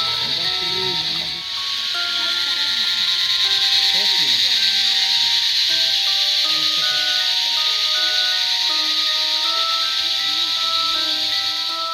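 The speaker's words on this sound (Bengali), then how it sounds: "ঝিঝি পোকার আওয়াজ বলেই মনে হচ্ছে, কিন্তু এত জোরে আওয়াজ আমি কোনোদিন শুনিনি" Very loud cicadas in Dowhill forest keep up a dense, unbroken high-pitched shrill. A faint vehicle or tonal hum sits beneath it.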